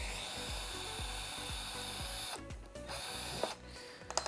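Removing two 5/16 screws from the pedal of a Vacuflush marine toilet base with a power driver, a run of short, rapid whirring bursts close up, then a few quieter clicks and taps near the end.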